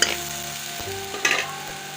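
Green beans and potatoes sizzle steadily in a pan as spices go in, a continuous close frying hiss with a couple of brief stirring scrapes.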